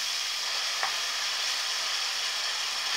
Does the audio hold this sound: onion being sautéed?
yes